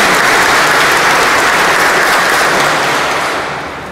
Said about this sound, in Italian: Quindi veramente vorrei fare un applauso innanzitutto.